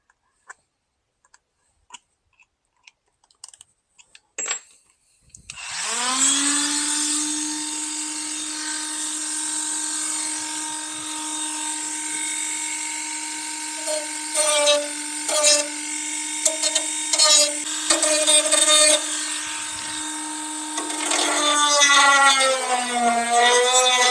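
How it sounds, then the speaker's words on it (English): Grinder wheel smoothing cut plastic inside the dash of a 2003-2006 Chevy Tahoe during a touchscreen radio install: a few clicks, then a loud steady high whine that runs on with slight pitch wavers as it bears on the material. "I want to go in here with this grinder wheel, just kind of smooth everything out now."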